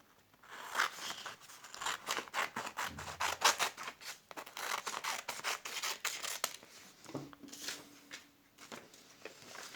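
Scissors snipping excess off a sheet of craft paper to square it for origami, a steady run of quick close cuts with papery rubbing and rustling, followed by a softer crinkle at the end.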